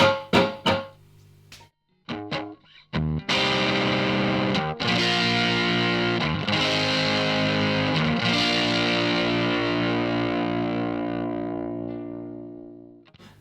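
An electric guitar played through a TC Electronic Tube Pilot overdrive pedal gives a few short distorted stabs, then a big sustained overdriven chord that rings out and slowly decays.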